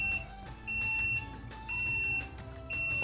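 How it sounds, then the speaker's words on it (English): A high electronic alarm on a Piaggio Ape 50 electric conversion beeps repeatedly, about once a second, each tone held for half a second, steady and fairly close. "Why is the alarm going off?"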